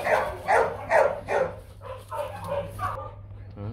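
A male Rottweiler barks in a run of about six loud, close barks and yips, with a few softer whimpering calls at the end, mixed with a person talking nearby.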